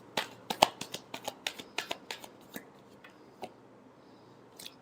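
Tarot cards are shuffled in a close, quick run of crisp riffling clicks and flicks, about a dozen sharp snaps in the first two seconds thinning to a few scattered taps, with no talk.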